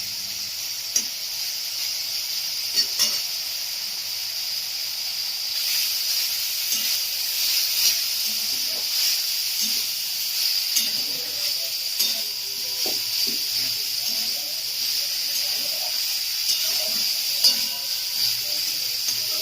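Broccoli fries in white oil in a pan, giving a continuous close hissing sizzle with occasional soft clinks and stirring scrapes, and no talking.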